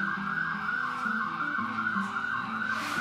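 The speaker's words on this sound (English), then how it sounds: "now you can hear an ambulance." An ambulance siren wails in a repeating up-and-down pattern, distant but clear over low traffic rumble.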